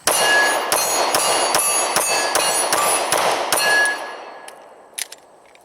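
Rapid string of Glock 23 Gen 4 pistol shots in .40 S&W, each followed by the ringing clang of a steel plate target about 8 yards away at an outdoor range, about ten sharp reports in quick rhythm ending with scattered hits.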